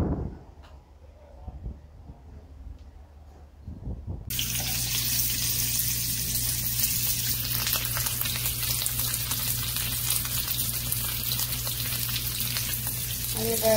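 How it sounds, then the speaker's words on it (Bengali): A hot dog scored with small cuts fries in a pan, loud and close. After a quiet start, a dense, even sizzle suddenly begins and holds steady to the end. "সো আমি হটডগটা ভেজে রুটির মধ্যে নিয়ে নিয়েছি"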